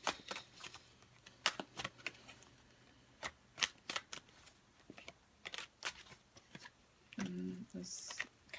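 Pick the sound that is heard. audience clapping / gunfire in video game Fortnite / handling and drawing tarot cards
handling and drawing tarot cards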